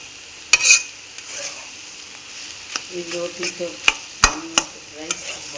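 Boiled eggs being mashed and stirred into masala in a frying pan: a light steady sizzle with scattered scraping and tapping from the utensil against the pan, some louder knocks near the end.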